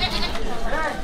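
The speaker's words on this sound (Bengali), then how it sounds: "এটা হচ্ছে ছাগলের বাজার" A goat bleats at a village livestock market, one wavering, nasal call rising loudly over crowd chatter and general market noise.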